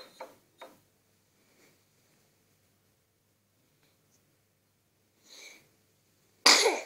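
A single sharp sneeze bursts out near the end, loud and close, after a few quiet soft noises and rustles in a still room.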